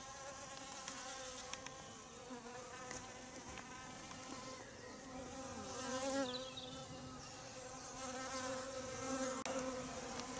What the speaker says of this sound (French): je m'aperçois que les abeilles se mettent sur les pierres et qu'elles prennent de l'eau à partir des pierres